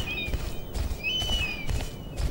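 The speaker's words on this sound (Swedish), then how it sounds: "Nu hör man en fågel i alla fall." In the PennyGirl horse video game, a high, thin bird call sounds twice in drawn-out whistles over a soft, rustling outdoor ambience with light patter.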